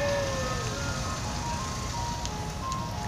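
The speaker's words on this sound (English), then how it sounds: "There goes the old Chevy van, turkey in the straw. And here comes another one, the picnic song." Ice cream jingles from two old Chevy vans, one playing Turkey in the Straw and the other the picnic song, a thin melody drifting over steady traffic rumble in the street, moderately distant with no voices.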